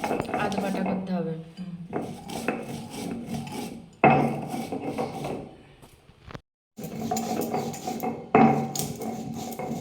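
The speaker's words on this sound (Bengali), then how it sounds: "সিলটা আমি ভালো করে ধুয়ে মুছে নিয়েছিলাম, তারপরে এবার গুঁড়ো করে নিচ্ছে আমার মা" Spices for mango pickle are ground on a sil stone, with repeated rough rasping and rubbing strokes of the stone on stone, a brief pause, then more grinding, while a voice talks over it.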